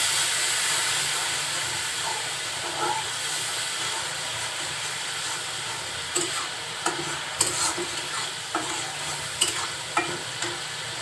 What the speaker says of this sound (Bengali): আর অল্প পরিমাণে ধানের গুঁড়া দিয়ে মশলাটা খুব সুন্দরভাবে কষিয়ে নিচ্ছি